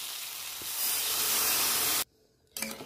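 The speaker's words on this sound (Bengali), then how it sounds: "এবার আমি জল দিয়ে দেবো" Water poured into a hot pan of mustard-fried tomatoes sets off a loud, steady spray of steam and sizzle for about two seconds, then a brief hush before the hissing picks up again.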